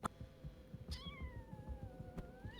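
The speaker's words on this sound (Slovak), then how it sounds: "Mačka?" A cat in a video game gives one drawn-out meow that slides gently downward, close and clear over faint ticking game sounds.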